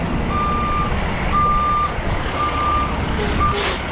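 A truck's reversing alarm beeps four times in an even, slow rhythm while backing up at a traffic light repair job, the tones ringing out clearly over a steady outdoor engine rumble.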